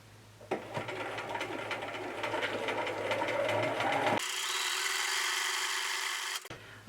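A domestic sewing machine runs a straight stitch at 2.5 stitch length, sewing pintucks on an Edwardian-style camisole: a close, steady mechanical whirr with a rapid needle rhythm, then a sudden change in pitch before it stops.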